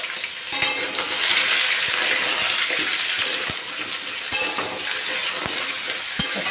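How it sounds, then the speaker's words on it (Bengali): Drumstick pieces sizzle and fry in hot oil seasoned with nigella seeds, a steady close crackle with occasional stirring clicks throughout, no talking. "এর মধ্যে তেল দিয়ে দিয়েছি, তার মধ্যে দিয়ে দিয়েছি কালো জিরে ফোড়ন। এখন হচ্ছে বসাবো সজনে ডাঁটা।"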